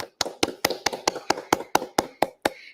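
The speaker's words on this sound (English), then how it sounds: "a round of applause for you" About eleven sharp, evenly spaced claps ring out in a steady rhythm to applaud the winner of the Inter Dzongkhag quiz competition, close and clear with no talk.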